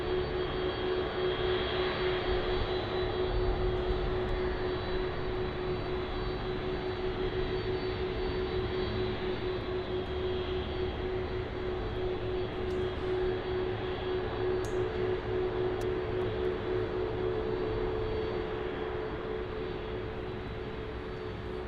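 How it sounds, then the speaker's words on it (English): A Delta Boeing 767-400 jet taxiing at Munich Airport gives a steady, loud engine roar with a sustained whine throughout. "See the Delta 767-400 on the screen there. Still taxiing out."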